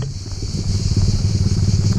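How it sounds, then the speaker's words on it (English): A motorbike engine putters close by, its throaty rhythmic pulse growing slightly louder as it approaches. "There's a motorbike coming."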